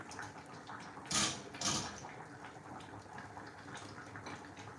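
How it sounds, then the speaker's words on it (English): Liquid poured into a pot of thick peanut soup in a home kitchen, heard as two brief splashing gushes near the start, then a soft, low background. "I'll be pouring this inside this soup."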